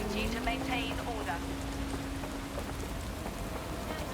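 Steady rain falls on London streets with puddles in the game Watch Dogs Legion, a constant soft hiss of drops on surfaces with a faint tonal hum beneath, fairly quiet and unbroken.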